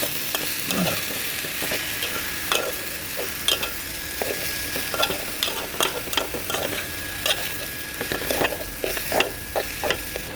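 Cauliflower leaf greens fry with garlic in a pan, giving a steady close sizzle broken by frequent scraping, clicking stirs of a utensil against the metal.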